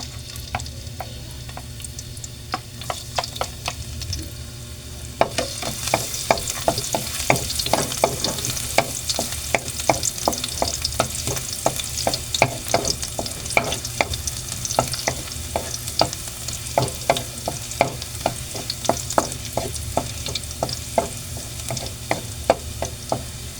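Garlic sizzles in hot oil in a frying pan, a steady close fry joined by frequent sharp scrapes and clinks of stirring that grow busier after the first few seconds, with no voices.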